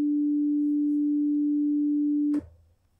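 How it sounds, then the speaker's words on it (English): A single steady pure tone holds at one pitch for over two seconds, then stops suddenly, leaving a brief soft click and quiet. "The sine wave is the most basic waveform. It has no harmonics. It has just one tone,"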